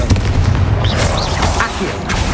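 A Confringo blast spell bursts in the Hogwarts Legacy game as a loud, booming explosion, set over a dense, continuous bed of game combat noise.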